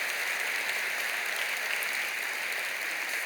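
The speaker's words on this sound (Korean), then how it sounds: "새로운 박수 한번 저기 치시죠" Steady, dense applause from a church congregation during a Sunday service, fills the space evenly for the whole stretch with no voices rising above it.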